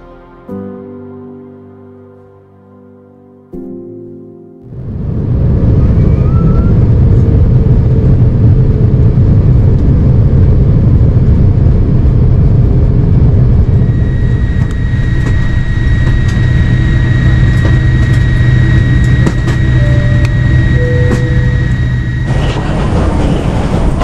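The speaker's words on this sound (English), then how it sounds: "let's enjoy this landing into Incheon International Airport" A Jetstar airliner landing at Incheon International Airport, heard from inside the cabin: a quiet hum gives way to a sudden loud, steady rumbling roar that persists, with a tonal whine layered on top near the end.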